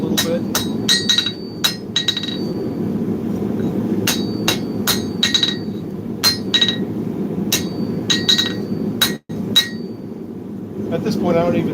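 Hammer blows ring out on metal pieces at a forge, sharp metallic strikes arriving in irregular clusters over a steady low hum, loud and close.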